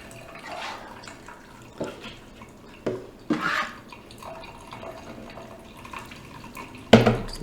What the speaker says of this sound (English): I'm going to pour off most of the water.